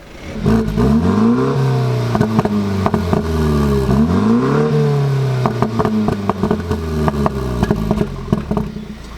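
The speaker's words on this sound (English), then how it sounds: "This is what it's going to sound like on Comfort." An F30 BMW 330i engine idles and revs in repeated swells with its exhaust in Comfort mode, the exhaust note rising and falling, loud and close with a mild clatter.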